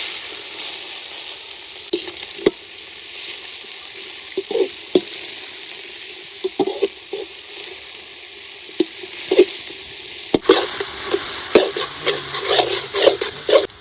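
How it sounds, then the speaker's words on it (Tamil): Onions fry in hot oil with cinnamon and cloves for chicken leg gravy, giving a continuous sizzle under intermittent spatula scrapes and clinks that grow busier and more frequent toward the end. "வெங்காயம் ஆட் பண்ணிக்கலாம்."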